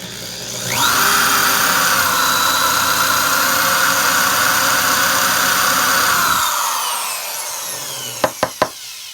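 An Opel Speedster engine idles at low RPM that makes the car shimmy, holding a steady, close drone for about six seconds before cutting off, followed by three sharp clicks.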